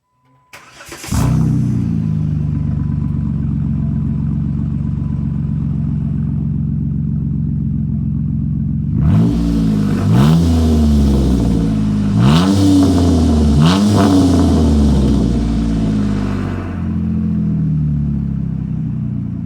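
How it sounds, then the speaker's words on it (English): A Jeep JK with an axle-back muffler delete fires up loudly, settles into a steady, throaty idle, then revs several times in quick rising blips before easing back to idle, with no talking. "we're back on here as you can see with that muffler delete. Axle back. I'm going to fire this one up"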